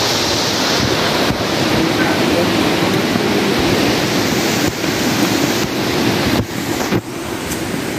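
Strong water rushes steadily and loudly near a muddy mountain trail in Sitio Santol, Barangay Uddiawan. The roar is continuous and close, with wind buffeting the microphone.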